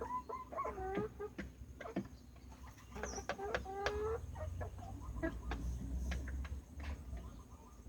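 A small backyard flock of ten laying hens kept for eggs clucks and cackles in repeated bursts, close by, with a steady low background hum and no talking.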